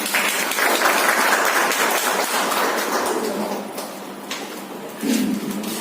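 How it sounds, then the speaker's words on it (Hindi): An audience claps steadily and loudly at a felicitation ceremony for class 12 topper students, a dense sustained round that eases slightly toward the end. "जोरदार तालियां हो जाए"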